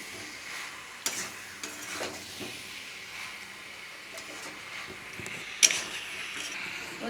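Hot water poured into chicken masala frying in a pan sets off a steady, soft sizzle and hiss. A few light clinks and stirring scrapes cut through, with one sharper splash near the end.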